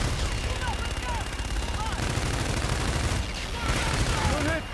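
Called-in fire strike in Call of Duty: Infinite Warfare, a continuous barrage of rapid gunfire and explosions rumbling loudly throughout, thickening near the end, with radio-style chatter bleeping over the din.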